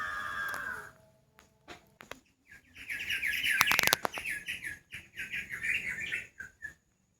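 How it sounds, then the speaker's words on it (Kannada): Small birds chirp and trill in a home garden planted with pepper vines, mango and guava trees, with a steady run of bright repeated calls in the second half after a few sparse notes and scattered rustles. "ಹಕ್ಕಿಗಳ ಕಲರವ ಕೇಳೋದೇ ಖುಷಿ"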